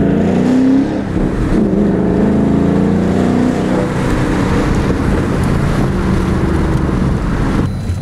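Steady, loud engine drone from inside a car while driving, a continuous low hum with little change and no talking.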